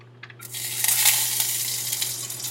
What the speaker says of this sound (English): You can hear a nice sizzle.